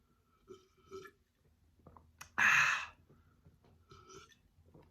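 One loud, raspy burp erupts in the middle, framed by soft breaths and small mouth noises in an otherwise quiet room.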